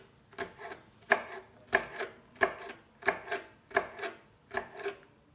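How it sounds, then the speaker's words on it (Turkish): Green pepper is chopped with a knife on a board for a leek and mince börek, eight evenly spaced crisp thuds, close and clear, with no talking. "Yeşil biberimizi de doğruyoruz. Yemeklik doğruyoruz arkadaşlar."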